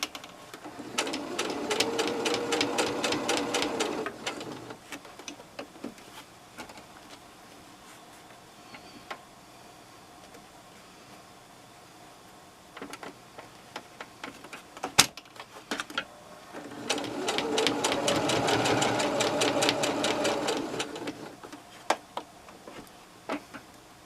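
A sewing machine stitches slippers in two separate bursts of rapid, even needle clatter, each lasting a few seconds, with a quiet stretch between them broken by scattered clicks and handling noises.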